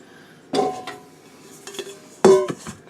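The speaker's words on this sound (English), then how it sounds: "start mixing the dry ingredients" Dry cornbread ingredients being mixed in a bowl, with a few sharp utensil clinks and scrapes against the dish between quiet pauses, close and alone.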